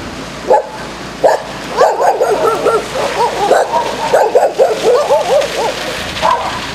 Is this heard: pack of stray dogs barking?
yes